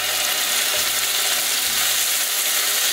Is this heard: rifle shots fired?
no